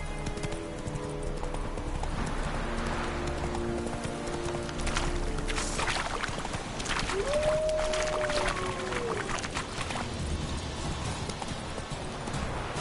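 Roach the horse galloping in a video game, steady rhythmic hoofbeats clip-clopping throughout, with a short whinny-like tone partway through, over background game music and ambience.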